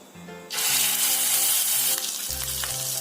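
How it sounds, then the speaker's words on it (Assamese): Ground spice paste for fish egg curry hits hot oil with dried chilli already fried in the pan, a sudden loud sizzle that stays strong and then eases slightly as it is stirred. "এতিয়া এইখিনি ভালদৰে ফ্ৰাই কৰি দিম।"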